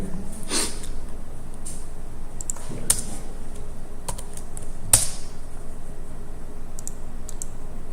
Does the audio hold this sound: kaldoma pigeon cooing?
no